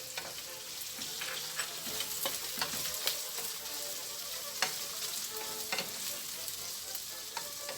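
Pork sizzles and fries in a hot pan with onions for chopsuey, with steady loud crackling and occasional scraping stirs throughout, no talking.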